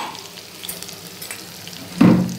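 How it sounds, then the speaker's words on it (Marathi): A spoonful of cumin and crushed ginger and garlic frying in hot oil in an eggplant masala, a low steady sizzle with faint crackles that flares into a louder burst of hissing near the end, close by. "1 चमचा जिरं टाकायचं आणि हे आलं लसूण ठेचलेला त्याच्यामध्ये घालायचा"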